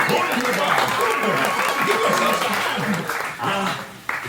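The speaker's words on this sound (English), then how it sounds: "Applause, applause, that was so good." Audience applause inside Disneyland's Enchanted Tiki Room, a steady wash of clapping from a seated crowd that holds for several seconds, mixed with animated show voices and a sustained whistle-like tone, then thins out toward the end.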